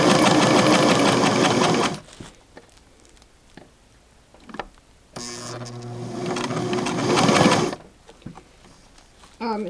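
A Singer 6212C sewing machine stitching fabric in two loud bursts of rapid, rhythmic mechanical whirring, separated by a quiet pause with small clicks and handling noises.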